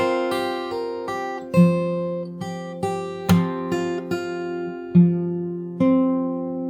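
A fingerstyle acoustic guitar plays a passage that includes a pull-off, with about a dozen plucked notes ringing into each other at an even, moderate pace, close and with no voices.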